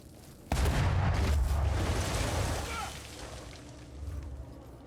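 A loud cannon boom erupts in a video game, then rumbles and fades over several seconds with faint background noise.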